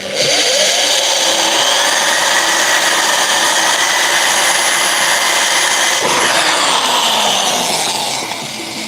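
A power drill runs continuously at high speed, loud and close, boring through metal near a car's air filter while a battery is mounted, its whine shifting pitch midway and easing slightly toward the end.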